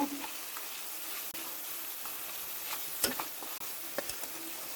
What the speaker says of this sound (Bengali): পেঁয়াজের কাঁচা গন্ধটা যেন চলে যায় আমি দু তিন মিনিট ভেজে নেব